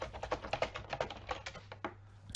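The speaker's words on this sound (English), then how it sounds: "you type in its name" Quick, irregular keystrokes on a computer keyboard, fairly close and clear, a run of taps that slows and thins out near the end, with no voices.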